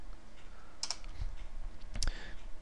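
Typing on a computer keyboard: a few quick clusters of light clicking keystrokes, close and fairly quiet, with a steady background hiss between the bursts.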